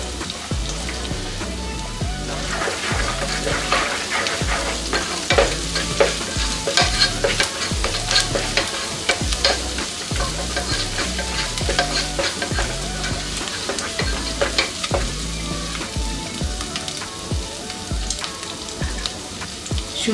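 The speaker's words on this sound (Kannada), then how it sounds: "ಈರುಳ್ಳಿ ಫ್ರೈ ಆದಮೇಲೆ 1 ಸ್ಪೂನಷ್ಟು ಶುಂಠಿ ಬೆಳ್ಳುಳ್ಳಿ ಪೇಸ್ಟ್ ಹಾಕೋತಾ ಇದ್ದೀನಿ" Ginger garlic paste fries with browned onions in a pan for vegetable kurma, a steady close sizzle broken by rhythmic scraping stirs of a spoon throughout, with no talking.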